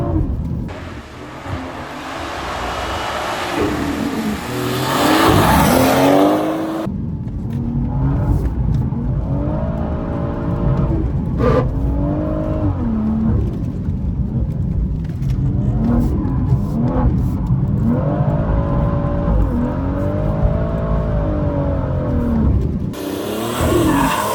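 A BMW M140 slides sideways in third gear through a long corner, its engine revving loud and steady while the tyres squeal continuously, with a brief wind-buffeted lull at the start before the drift settles in.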